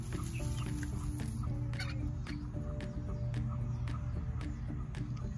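Young chicks cluck and peep softly and almost without pause as they explore a new outdoor coop, over a steady low hum and a few brief clicks.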